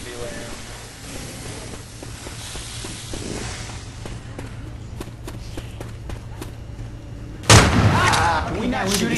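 Friendly fire in the Left 4 Dead 2 video game, on the Dark Carnival campaign: scattered gunshots and footsteps under game noise, then a sudden loud burst near the end.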